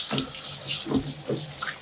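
Water from a shower sprays over a dog during a bath at home, a loud steady splashing rush with uneven gurgling bursts as the stream hits fur and tub, heard close with no talking.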